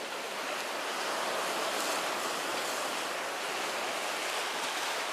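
Sea waves crashing against the rocks at Naksan harbor on a rough day, a continuous loud roar of surf mixed with wind and no talking.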